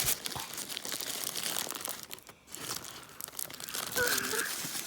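A wrapped toy present is unwrapped close by, with paper crinkling and tearing in quick bursts and a short pause partway through.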